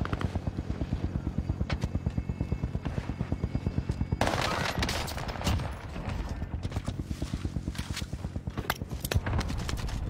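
Rapid, sustained gunfire in a video game, dense automatic bursts over a throbbing helicopter-like drone, with a louder cluster of shots midway; continuous and loud.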